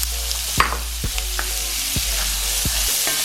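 Cauliflower rice with broccoli, carrots and green onion frying in a pan, a steady sizzle broken by several sharp clacks of a utensil scraping and stirring, close and fairly loud, no talking.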